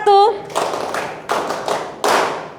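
A class of children in a classroom claps in short bursts of hand claps, loud and near, coming in clusters after a brief spoken cue at the start.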